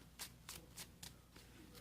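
Playing cards in slippery new sleeves being riffle-shuffled in a few quick, crisp bursts, close up, with soft table noise between them.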